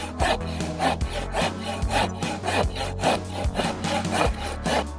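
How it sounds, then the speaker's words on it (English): Hand saw cutting wood for DIY sound panel frames, close and loud, with a steady rhythm of rasping back-and-forth strokes, about two each second, and no talking. "Just finished cutting all the wood."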